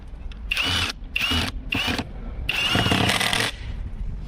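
A cheap AliExpress impact driver runs at its first speed setting in four close, loud bursts of whirring and rattling, with short pauses between them and a longer final burst; no one talks.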